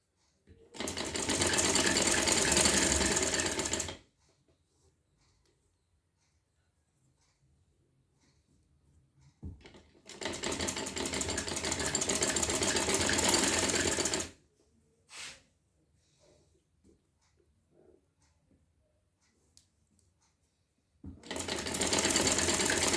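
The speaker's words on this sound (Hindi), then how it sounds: "हम सिलाई कर देंगे ताकि इसकी सही सही से हमें फिनिशिंग आ सके।" Sewing machine stitching a kurti hem, running in three long steady whirring bursts separated by quiet pauses, close and loud with no talking.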